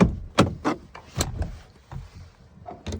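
Security deadlock on a DIY camper van door being turned and disengaged, heard as a series of close metallic clicks and clunks spaced irregularly, a few sharp knocks followed by quieter rattles.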